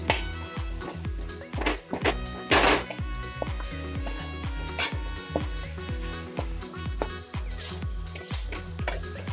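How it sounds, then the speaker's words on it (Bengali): A spoon repeatedly scrapes and knocks against a metal pan while stirring grated coconut and jaggery into a filling, steady rhythmic clinks and thunks close up, no talking. "নারকেলটার সাথে গুড়টাকে ভালো করে মিশে যেতে হবে, ততক্ষণ অবধি নাড়াচাড়া করে যেতে হবে।"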